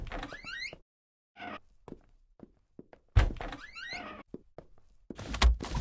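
A door swings shut in a video game with a solid thunk, followed by scattered knocks, soft footsteps and a second heavier impact, all fairly close and without talk.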